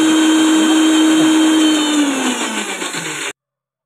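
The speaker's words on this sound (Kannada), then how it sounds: "ಇದಕ್ಕೆ ಸ್ವಲ್ಪ ನೀರು ಹಾಕ್ಕೊಂಡು ನಾನು ಇನ್ನೊಂದು ಸಲ ಮಿಕ್ಸಿ ಆಡಿಸ್ಕೊಳ್ತೀನಿ" A kitchen mixer grinder blends potato chutney with a little added water, a loud, steady whirring drone up close that slowly lowers in pitch and then cuts off abruptly near the end.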